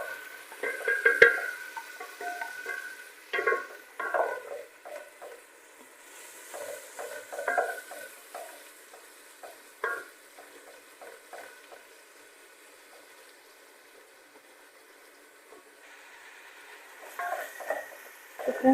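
Garlic ginger paste frying in a pan while being stirred, with soft intermittent scrapes and clinks over a faint sizzle. The stirring comes in bursts, then quiets for a stretch before picking up again near the end.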